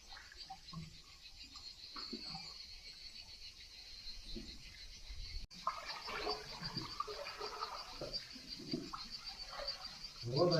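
Water gurgles and trickles inside a sea cave on the Novigrad Sea coast. The sound is faint and irregular against a hissing background, and it swells slightly toward the end.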